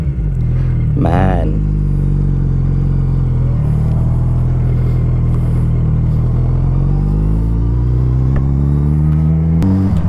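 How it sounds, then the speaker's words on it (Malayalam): A Suzuki Hayabusa Gen 3 motorcycle revving hard, engine pitch climbing and dropping through upshifts with a sharp burst, loud and close, someone talking over it. "നമ്മൾ എക്സോസ്റ്റ് ഇങ്ങനെ ടപ്പ് ടപ്പ് എന്നുള്ളൊരു ശബ്ദം കേൾക്കും അപ്പ് ഷിഫ്റ്റ് ചെയ്യുന്ന സമയത്ത്."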